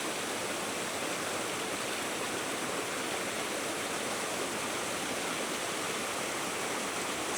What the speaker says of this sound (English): What a lovely waterfall.